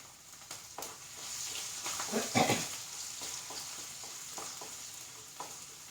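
Ginger and garlic frying in a pan for prawn roast, a soft continuous sizzle that swells briefly as it is stirred, with light scraping clicks and no talking.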